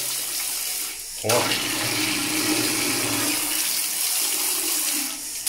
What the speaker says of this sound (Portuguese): Olha o jato de água.